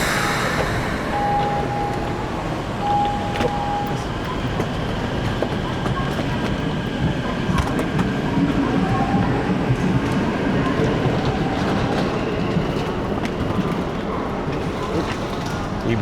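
Rumbling interior of a packed Tokyo train bound for Ginza, a steady rolling drone with faint rattles and brief tones throughout, soft crowd murmur underneath.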